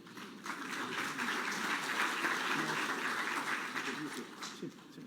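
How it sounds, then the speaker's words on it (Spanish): A conference audience applauds for several seconds, a dense, even patter of many hands heard from a moderate distance, with faint voices mixed in. "Le damos un fuerte aplauso"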